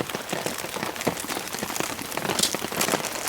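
Heavy rain pouring steadily during a rainstorm at a camping site, a dense, loud hiss of drops pattering on surfaces throughout, with no voices.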